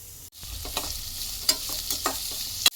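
Sliced onions, green chillies, curry leaves and peanuts frying in oil, a soft sizzle broken by several stirring strokes and light scrapes of a spatula against the pan, close and unaccompanied by speech.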